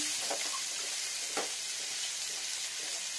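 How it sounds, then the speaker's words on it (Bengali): Chopped ginger and onion sizzle in a pan just used for frying eggs, a steady close hiss with a few soft scraping stirs and no voices. "এবার এখানে আমি দিয়ে নেবো আদা কুচানো আর পেঁয়াজ কুচানো"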